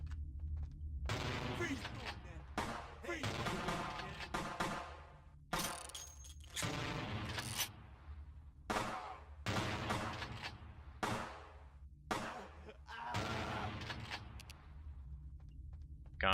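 Bursts of gunfire, including shotgun blasts, ring out in the video game Vampire: The Masquerade - Bloodlines, dense repeated shots in clusters separated by brief gaps, loud and harsh.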